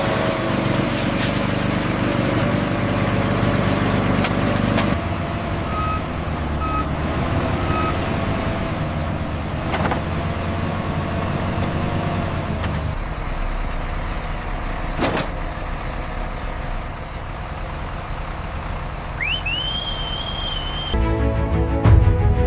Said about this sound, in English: The loaded trucks enter the giant processing factory through automated security gates.